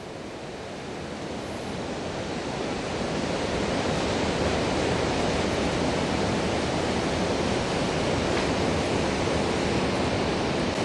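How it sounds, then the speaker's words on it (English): Rushing water fills a lock on the River Thames near Henley-on-Thames as the gates open, a steady broadband roar that swells slightly in the first seconds and then holds loud and constant throughout, with no voices. "The water level's rising pretty quick, and here we are, the lock gates are opening now."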